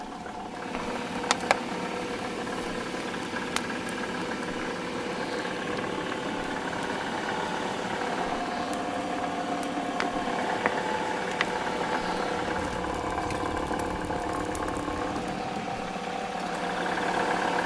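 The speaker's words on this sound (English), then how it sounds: "The engine revs, even though it has less energy than the children who play football nearby." A meat-roasting engine runs steadily at a distance, a medium idle with mild vibration and slight rises in revs, heard alone with no talk.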